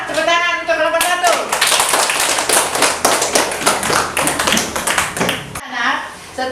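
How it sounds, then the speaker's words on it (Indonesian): Elementary school classroom in Gowa, students clapping together for a group of classmates, a burst of rhythmic, loud, close claps framed by a teacher's speaking voice before and after. "sekarang tepuk tangan untuk kelompok 1"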